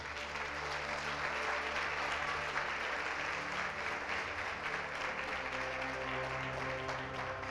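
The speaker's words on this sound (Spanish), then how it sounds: "Dele ese aplauso a Él" A church congregation applauds steadily at a Friday service, dense sustained clapping with a faint crowd murmur and sustained tones underneath, filling the whole stretch without a break.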